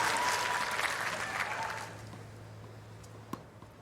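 Spectators at the 2025 US Open first-round women's tennis match between Alexandra Eala and Clara Tauson break into loud stadium applause that gradually fades to quiet, ending with a single soft thump.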